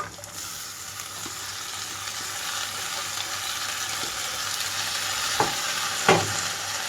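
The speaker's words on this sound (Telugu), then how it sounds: "ఇందులోకి కట్ చేసి పెట్టుకున్న తోటకూర అంతా వేసేసుకుంటున్నాను" Chopped amaranth leaves go into a pan of browning onions, bringing a loud, steady sizzle of frying with a couple of brief scrapes and stirring knocks near the end.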